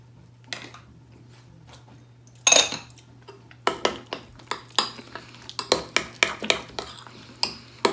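A spoon clinks repeatedly against a bowl of horseradish sauce, a quick series of sharp, close taps and scrapes that grows busier toward the end, with a low steady hum underneath.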